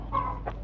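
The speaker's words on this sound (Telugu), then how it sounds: "పక్కింటి కోడి మన ఇంటి గోడకి వస్తుందిరా" A neighbour's chicken near a house wall lets out a few short, soft clucks over low background hum.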